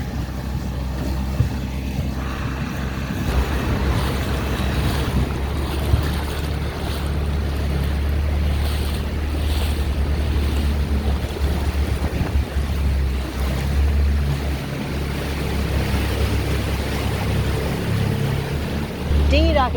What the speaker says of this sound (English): we're dinghying to the dinghy dock so we can go do laundry